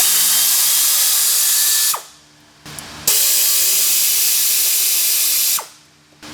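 A power tool spins off the fasteners holding a brake line to a car's rear suspension strut, two loud, close whirring bursts that each cut off abruptly, with a short pause between.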